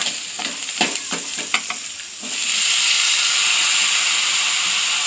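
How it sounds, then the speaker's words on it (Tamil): Chopped tomatoes for Chettinad mutton gravy hit a hot pan amid stirring clatters, then settle into a loud, steady sizzle and frying hiss that fills the rest. "தக்காளி நல்லா வதங்கட்டும்"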